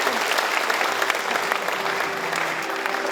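Loud, sustained applause from a crowd at a regional government town-hall meeting in Seongju, welcoming the provincial governor, steady and close throughout with no break.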